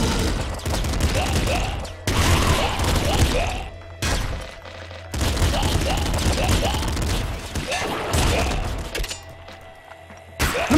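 Gunfire in the video game Nuclear Throne comes as dense, rapid volleys of loud shots in several long bursts separated by brief gaps, mixed with other game effects.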